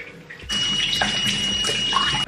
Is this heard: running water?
yes